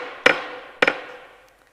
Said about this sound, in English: he was tapping, and he was sawing, and he was banging